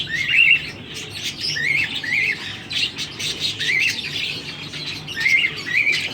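A cockatiel whistles close by in a run of bright, repeated rising chirps and squawky whistles, loud and continuous over faint background hum.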